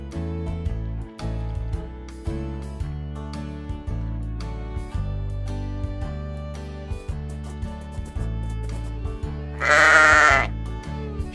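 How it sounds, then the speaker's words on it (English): A sheep bleats once, loud and close, in a short burst near the end of a children's animal-sounds segment, over steady upbeat background music that plays throughout. "Sheep."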